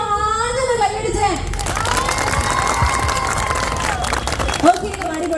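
A crowd at a live stage show with comedy and mimicry breaks into loud applause and cheering, clapping and shouts swelling for several seconds before settling, with children's voices mixed in.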